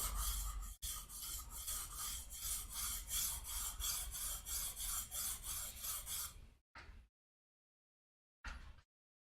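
A woodworking blade is rocked back and forth on its bevel against a sharpening stone, giving a steady run of close, loud rhythmic rasping strokes, then silence broken by two short scrapes.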